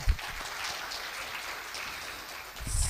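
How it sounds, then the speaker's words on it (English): Audience applause during a public lecture at a university: steady, fairly soft clapping across the whole short stretch, swelling slightly at the very end. "Give him applause."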